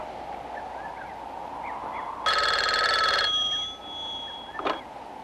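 A telephone bell rings once in a loud, rattling burst of about a second during a call-back line check, followed by a brief click, with faint birdsong in the quiet background.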